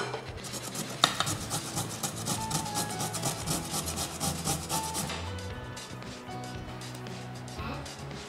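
Beetroot grated by hand to tint a spiced buttermilk drink pink, heard as steady, close rasping strokes that repeat evenly for several seconds, with a sharper scrape near the start.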